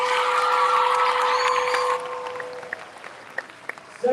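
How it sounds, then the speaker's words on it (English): A crowd at a school awards ceremony applauds steadily for about two seconds, then the clapping thins out into a few scattered claps. "Give them a round of applause."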